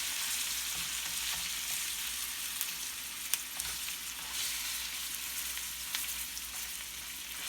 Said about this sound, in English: once we cook it in butter, we just put it on a medium heat